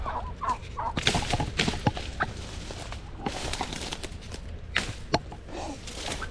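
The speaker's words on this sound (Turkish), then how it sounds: "Tavuk kuşu mu? Kaz desem kaz değil ne bunlar acaba?" Several chicken-like birds clucking and squawking nearby in short scattered calls over rustling outdoor noise.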